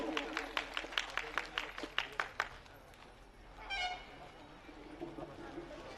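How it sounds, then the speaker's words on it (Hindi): An audience at a community festival gathering claps in a burst of sharp, rhythmic applause that fades into murmuring crowd noise and a brief honk-like tone, with voices talking underneath. "और एक बार जोरदार ताली आप सभी बजाइए"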